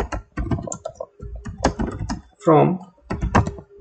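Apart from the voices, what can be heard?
typing an SQL subquery on a computer keyboard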